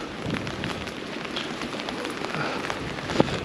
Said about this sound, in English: not for long because it's still raining out here